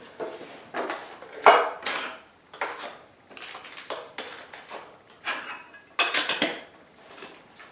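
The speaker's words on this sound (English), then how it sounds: "Got a knife, fork, and spoon" A metal camping knife, fork and spoon from a bug-out bag being handled, giving a series of separate close clinks and clatters with short pauses between them.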